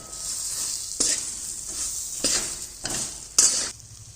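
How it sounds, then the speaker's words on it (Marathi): Green chillies coated in red chilli powder fry on a medium gas flame, a continuous close sizzle broken by four louder bursts of stirring scrapes. "आता फ्राय करायचं गॅस हा मध्यमच ठेवायचा"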